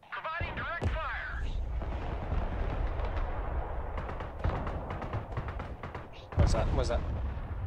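MLRS rocket artillery firing in the Broken Arrow video game at night, a sustained roar of launches and rumbling blasts with sharper bursts near the end, under radio chatter and a speaking voice.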